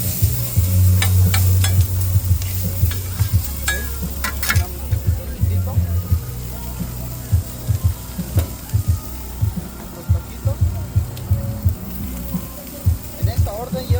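Food sizzles on the grill of Tacos el Flako, a taco food truck, a steady loud hiss with scraping and clatter from the cook working the griddle; voices talk over it.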